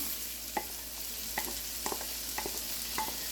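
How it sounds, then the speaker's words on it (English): Onions frying in a skillet for risotto: a soft, steady sizzle with a spoon or spatula scraping and stirring the pan in irregular taps and scrapes, quiet and close. "Alright, so now let's add in our onions here."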